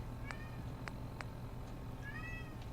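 A cat cries outside a door with several short, rising meows in a row, then a longer wavering call, faint and a little distant against a low steady hum.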